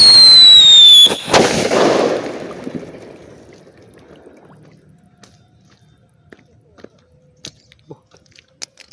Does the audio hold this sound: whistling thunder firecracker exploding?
yes